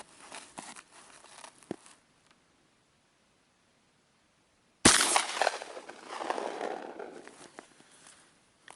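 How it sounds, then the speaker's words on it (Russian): A smoothbore shotgun fires a rifle-type slug cartridge outdoors: after light handling noises and a quiet pause, one very loud, sharp blast cracks out and rolls away in a long, rumbling echo. "Очень громкий выстрел"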